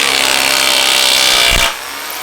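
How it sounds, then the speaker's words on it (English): A rotary hammer drills a 1/4-inch hole through wood into concrete on a job site, making a loud, steady grinding roar that stops abruptly near the end and leaves a lower hum. "We're gonna pin these right now with my roto hammer"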